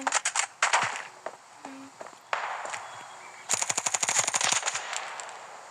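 Video game gunfire, loud close bursts of rapid automatic shots in two clusters, the second a dense machine-gun volley, with single shots between and no talk.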